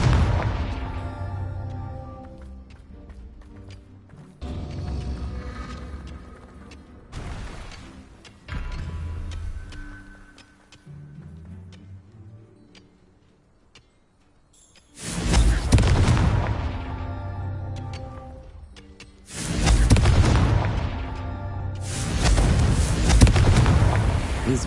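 Confringo spell blasts in the video game Hogwarts Legacy, several loud booming explosions in bursts, the last two heavy and sustained, with quieter game sounds between.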